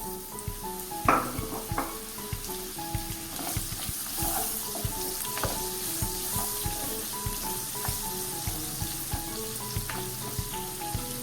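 Raw mango pieces hit hot oil seasoned with asafoetida, setting off a steady, close crackling sizzle with small pops and stirring sounds throughout, over faint music.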